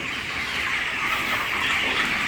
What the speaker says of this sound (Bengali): এই মুরগিটার বয়স হচ্ছে উনত্রিশ দিন